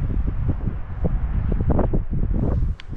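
Wind gusts buffet the microphone at a lake shore, a steady rumbling roar with rustling bursts over three seconds and no speech.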